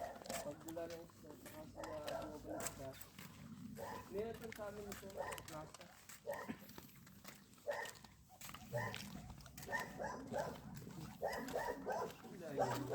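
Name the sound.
dogs barking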